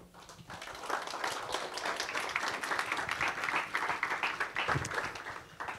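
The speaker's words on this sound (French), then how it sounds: "Merci de l'accueillir avec des applaudissements." Audience applause at a French geopolitics thesis competition, welcoming a speaker: steady, dense clapping from many hands throughout, moderately loud with a faint murmur beneath.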